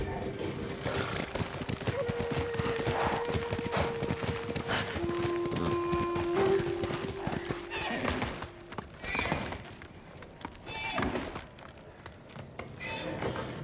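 A horse's hooves clip-clop rapidly across rough, brushy hillside terrain in the Ghost of Tsushima video game, with whinnies and rustling over a steady background, and a voice talking at points.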